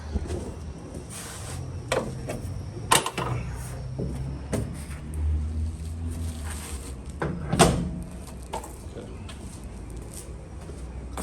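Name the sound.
hood of an Integra GSR being closed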